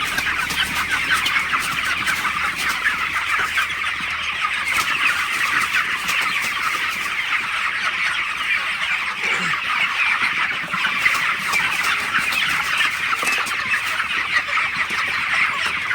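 Broiler chickens on a poultry farm at about four weeks old keep up a dense, continuous chorus of clucks and chirps from a large flock, steady throughout without talk.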